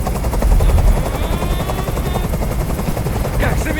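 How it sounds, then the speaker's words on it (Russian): Helicopter hovering overhead in the video game Detroit: Become Human, a loud, continuous rapid rotor thumping with engine whine that fills the whole stretch without a break. "Как же меня бесит этот звук! Прикажи им, чтобы вертолет убрался!"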